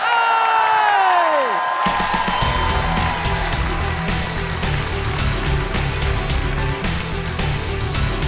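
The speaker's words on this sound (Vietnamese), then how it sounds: "những tràng vỗ tay thật lớn để đến với khách mời" Studio audience at a Vietnamese TV comedy show bursting into loud applause, cheering and whooping after a descending musical sting, sustained crowd noise throughout.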